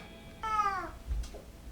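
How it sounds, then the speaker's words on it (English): A single loud, drawn-out cat meow with a falling pitch, close by and heard alone, followed by a brief faint sound and low background rumble. "And cat screaming in the background, as per usual."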